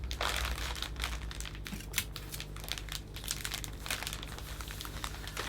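Cellophane handled and crinkled while a Christmas hand-tied flower arrangement is assembled, a continuous close, bright crackling rustle without pauses.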